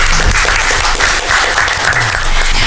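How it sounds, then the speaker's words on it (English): An audience at a community forum applauds steadily and loudly for a few seconds, dense overlapping claps filling the room with no voices above them. "Let's go ahead and give her a round of applause."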